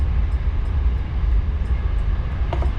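A train passes nearby as a continuous low rumble, heavy and steady throughout, with a faint clack near the end.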